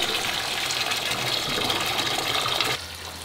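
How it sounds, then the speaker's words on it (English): Tap water from a garden hose pours into an aquarium tank for an alligator gar, a loud steady gushing and splashing fill that runs continuously, then drops to a softer trickle near the end. "Now I'm gonna go get the hose to fill it the rest of the way up."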